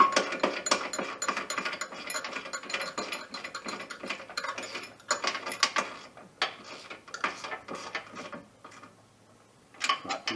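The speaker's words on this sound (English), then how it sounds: "Next we're going to tighten the ones on the frame first." Hand ratchet tightening 12mm bolts on the frame of a 2014 Yamaha Viking side-by-side, rapid clicking pawl bursts in repeated strokes with brief pauses, close and clear, no talking.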